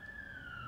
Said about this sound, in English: Oh, that is a siren.